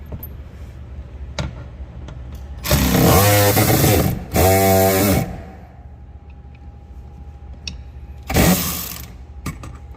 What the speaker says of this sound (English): So now you're gonna remove those 4 10 mil bolts.